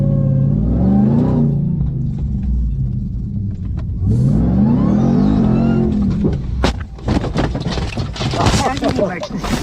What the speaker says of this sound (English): Brendan Schaub testing out his nice little truck.